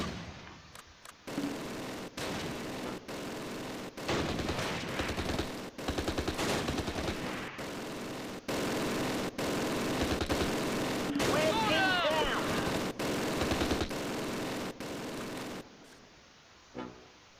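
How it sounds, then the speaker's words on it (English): Mortar and gunfire from the war strategy game Close Combat: Last Stand Arnhem: dense, repeated bursts of shots and booming impacts fill most of the stretch, loud and continuous, with a voice briefly talking over it. "Mortar fire, bloody smoke!"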